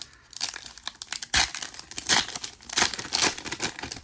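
Crinkling and tearing of foil packaging as a Solo Leveling trading card box from a 2025 Mapniverse collect card case is ripped open, loud and close in repeated bursts.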